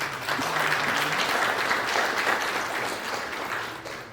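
Warm, sustained applause from a large audience at the 2023 Ghana Oil and Gas Conference, dense and fairly loud, holding steady before tapering slightly at the end.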